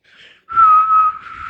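A person whistles a clear, steady high note, preceded by a brief breathy attempt, close and alone.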